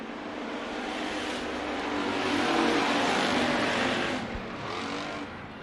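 Race cars at Bakersfield Speedway roar through turns 3 and 4, a dense sustained engine drone that swells to a peak in the middle and then eases slightly, loud and continuous with no talk.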